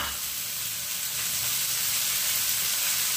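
Washed moth beans dry-roasting in a hot pan before any oil goes in, giving a steady, moderately loud hiss and sizzle with faint crackle throughout, no voices.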